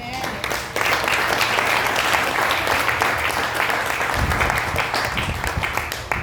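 A church congregation breaks into loud, sustained applause for the King, many hands clapping in a thick continuous wash that fills the room, with a brief low thump partway through and a voice faintly audible beneath.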